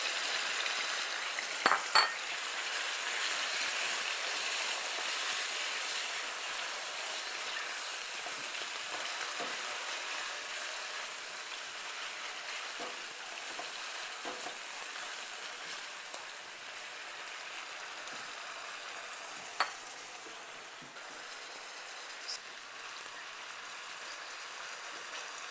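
Steady, bright sizzling of marinated chicken pieces frying in hot oil, with a few faint clinks of a utensil against the pan.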